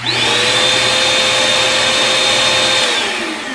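A small Craftsman shop vacuum motor whirs steadily at a high, loud pitch for several seconds, then winds down as it switches off.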